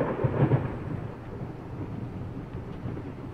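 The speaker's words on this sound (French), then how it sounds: "Alors que dehors, le tonnerre gronde" Video game thunder in the horror game Layers of Fear: low, rolling rumbles, loudest in the first half second before settling into a continuous deep grumble with no voices.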